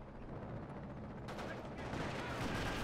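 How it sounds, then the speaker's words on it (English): Mortar fire in the video game Company of Heroes: Modern Combat, a dense, low rumbling barrage of blasts and explosions that swells slightly toward the end, fairly quiet in the mix. "It's a mortar back here."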